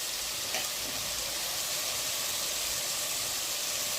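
Chopped tomatoes sizzle in a pan for a home-cooked rasam lunch, giving off a steady, even hiss of frying that holds without a break for the whole stretch, with no voices over it.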